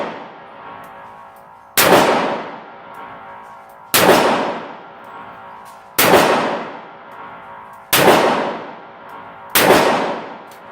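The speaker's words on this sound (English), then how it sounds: "I'll shoot these 6 rounds out of the revolver first. I'll shoot them all double action." Six double-action shots from a revolver ring out one at a time, each about two seconds apart. Every report is loud and sharp with a long ringing decay, and no one speaks.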